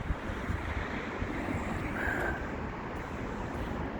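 Wind rushes steadily across the microphone at low volume, a soft broadband hiss and rumble with slight swells and no talking.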